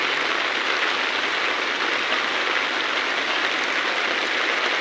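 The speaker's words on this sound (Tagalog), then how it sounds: "Tapos, ang lakas pa po ng ulan." Heavy rain pours down steadily during a flood in Calumpit, a dense, constant hiss filling the whole stretch with no let-up and no voices.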